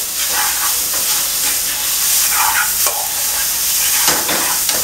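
Food fries in a pan with a steady, loud sizzle and hiss, broken by occasional scraping and stirring sounds up close.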